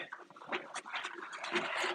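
A dog pants close by in quick, rhythmic breaths with a few soft whimpery sounds, heard on its own for about two seconds.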